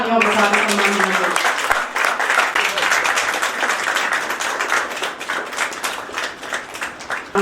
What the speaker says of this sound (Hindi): जोरदार तालियों के साथ सम्मान करें।